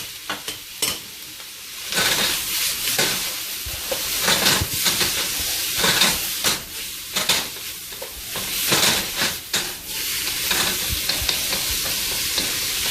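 Genetically modified corn sizzles loudly in a hot stir-fry pan for a cheap Chinese-style meal, with a constant hiss broken by repeated scraping stirs in an uneven rhythm.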